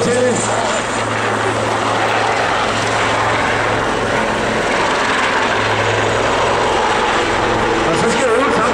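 A helicopter runs steadily nearby at a Danish emergency services open day, with loud continuous engine and rotor roar throughout and people talking beneath it.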